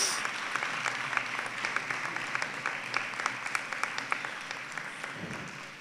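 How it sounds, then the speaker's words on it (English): Audience applause at the Natyarangam inaugural function fills the hall with steady, dense clapping, sharp individual claps standing out, and it thins and tails off near the end. "They deserve a big applause from all of you."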